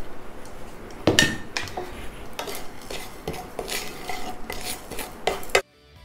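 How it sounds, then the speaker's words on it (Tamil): Poppy seeds, cumin, pepper and fenugreek dry-roasting in a pan, heard as a series of close metallic scrapes and clinks from a spoon stirring against the metal, cut off abruptly near the end. "இதில் வந்து கசகசா, சீரகம், மிளகு, வெந்தயம் வச்சுருக்கேங்க இல்லையா, இதை வந்து எல்லாத்தையும் ஒன்றாவே போட்டலாம்."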